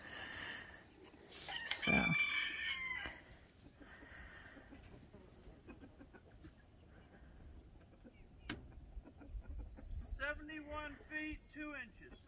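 Chickens near a backyard coop, with one rooster crow standing out clearly, then a rapid series of clucks toward the end, all fairly faint outdoors with a brief bit of someone talking.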